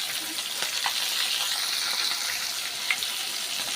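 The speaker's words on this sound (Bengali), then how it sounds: "লাল লাল করে এক পিঠ ভাজা হয়ে গেছে। উল্টে দেবো।" Food frying in a pan, one side browned before turning, gives a steady close hiss of sizzling oil with a few small pops, no voices.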